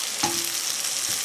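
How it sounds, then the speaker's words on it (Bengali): Prawns going into a pan of oily, well-fried masala for a golda chingri malai curry, a continuous close sizzle with a brief clatter as they drop in and another soft stir near the end. "এখন আমি দিয়ে দেবো চিংড়ি মাছগুলো।"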